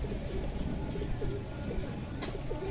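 High-flyer pigeons coo repeatedly in soft, throaty bursts over a steady rustling background, several birds close by and overlapping.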